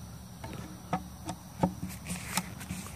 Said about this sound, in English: redneck Belmont bees.